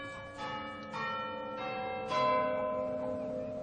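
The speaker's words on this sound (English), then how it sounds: "And the chimes held no encouragement for Trotty at all." A church bell chimes the quarter hour, several ringing strikes in slow succession, each one left to resonate and overlap as it decays, with no voices.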